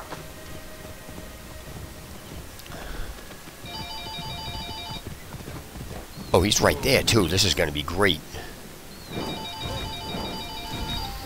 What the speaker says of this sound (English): I gotta get this phone